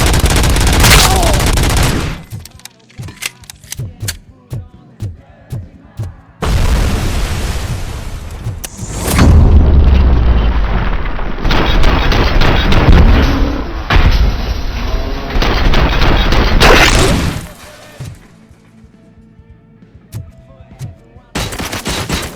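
Dense bursts of gunfire fill a RoboCop: Rogue City firefight, loud and close with rapid automatic volleys, heavy thuds and sharp cracks over roughly twenty seconds, broken by brief lulls between salvos.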